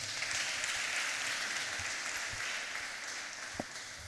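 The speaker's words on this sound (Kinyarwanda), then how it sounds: "Reka dukomere Imana yacu amashyi." A church congregation claps steadily for several seconds, a broad wash of applause that tapers slightly toward the end.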